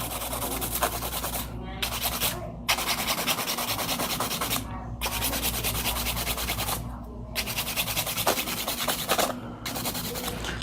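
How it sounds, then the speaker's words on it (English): Hand filing of a C-curve nail tip, a steady close abrasive rubbing with brief pauses between strokes, over a constant background hum. "So just hand filing techniques here."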